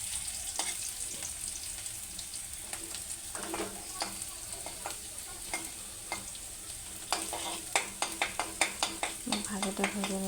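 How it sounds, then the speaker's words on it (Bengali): Cumin seeds frying in hot oil in a pan for vegetable dal, a steady close sizzle with scattered crackles that thicken into a fast run of pops and stirring scrapes toward the end. "ভাজিটা ভেজে নিচ্ছি লাল লাল করে।"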